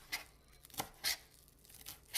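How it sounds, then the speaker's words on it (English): Knife chopping fresh parsley on a board: a handful of crisp, separate chops spaced irregularly about half a second apart, close and fairly quiet with no talk. "we just need to chop up the parsley"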